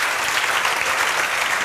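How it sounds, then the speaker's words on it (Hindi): A short, loud burst of dense audience applause, a continuous wash of many hands clapping together at close range with no speech over it. "तो ज़ोरदार तालियाँ बजाओ"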